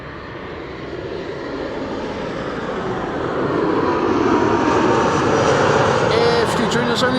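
An airplane arriving on runway 06, the Kaagbaan, at Amsterdam Schiphol Airport, with a steady broadband engine roar that swells louder through the second half as the aircraft draws near, with a voice talking beneath it.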